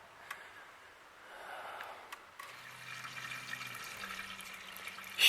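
Motor oil is poured slowly into an engine's oil filter, making a quiet, steady liquid trickle with faint splashing and no talking.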